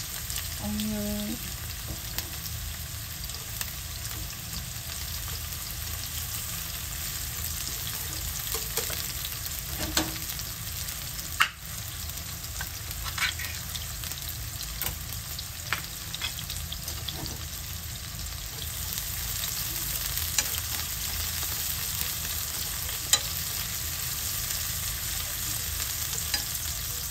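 Chopped onion sautéing in a pan for a tuna pasta with sweet basil, a steady soft sizzle lasting throughout with occasional light clicks and stirs, close and quiet, with no talking.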